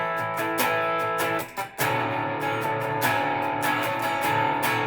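Acoustic guitar strummed on one chord, then moved to another as the pinky shifts and the lower strings open, with a brief gap at the change before strumming resumes, close and clear with no talking.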